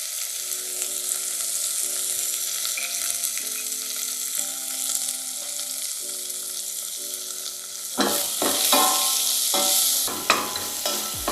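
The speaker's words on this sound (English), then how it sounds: "Just stirring, no browning." Cauliflower soup base cooking gently in a pan on low heat as it is stirred: a soft, even sizzle under a steady tonal hum, then louder scraping and stirring strokes near the end.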